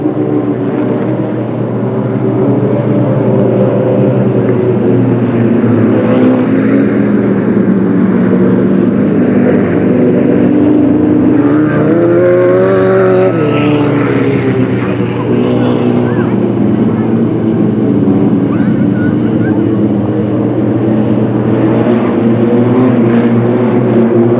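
Race cars roar around the oval at Delta Speedway in a continuous loud engine drone that swells as they pass, with an announcer talking over the noise throughout.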